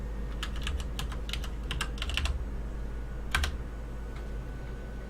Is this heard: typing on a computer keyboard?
yes